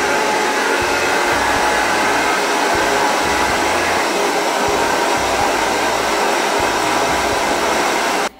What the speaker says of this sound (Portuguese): Então vamos lá secar o cabelo.